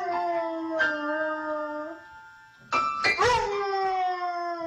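A dog howls in long sustained tones alongside a few piano notes, close and clear, with a brief quiet gap before the howling resumes.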